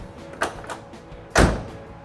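A door on a 1968 Chevrolet Camaro SS big block opens with a light metallic click, then swings shut with a solid, close thud.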